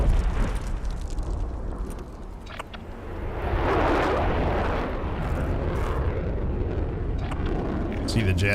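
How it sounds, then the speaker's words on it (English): A jet aircraft in the Warzone game roars overhead across Verdansk at night, a broad rushing swell that builds from the middle and holds loud to the end, with a voice talking over it. "See the jet?"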